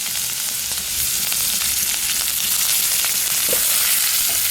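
White urad dal and chana dal sautéing in sesame oil, a loud dense continuous sizzle with faint stirring beneath.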